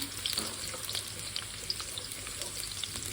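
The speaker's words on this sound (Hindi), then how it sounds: "ये थोड़ा सा अदरक है जिसको मैं थोड़ा फ्राई करूँगी" Ginger and garlic frying in a pan of oil for achari daal, a steady soft sizzle with faint crackles and small spits running throughout, close by with no talk.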